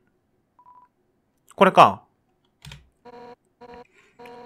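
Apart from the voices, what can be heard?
phone ringing in the video game Undertale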